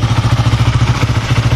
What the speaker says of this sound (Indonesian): Nah ini untuk suara mesinnya nih.